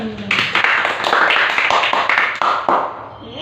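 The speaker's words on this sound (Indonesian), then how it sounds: "Tepuk tangan." Students in a classroom clap together in a short, uneven burst, with a few sharper individual claps standing out near the microphone.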